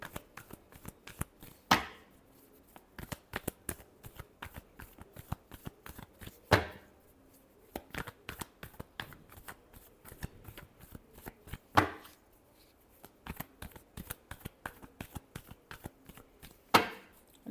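Playing cards are shuffled over and over in a quiet room during a tarot-style reading, with dense rapid riffling clicks and several sharper snaps and bridge flutters punctuating the run, all close and without any voice.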